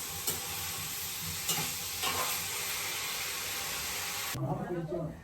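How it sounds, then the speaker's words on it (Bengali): Boal fish cooking with stems and potatoes sizzles steadily in a pan, with a few sharp stirring scrapes and a louder burst of frying near the end. "ডাটা আর আলু দিয়ে রান্না করতেছি মাছটা,"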